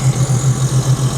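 A Sea-Doo jet ski engine, which has developed a new rattle, runs at a steady idle with a close, even, pulsing low throb.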